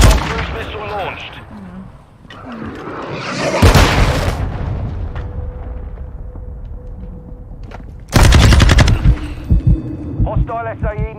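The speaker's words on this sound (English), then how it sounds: "Hostile cruise missile launched." Heavy booms and bursts of gunfire crash through a Modern Warfare 2 multiplayer match as a cruise missile strike hits, the loud impacts coming in sharp clusters between stretches of quieter game sound, with game voices speaking over it.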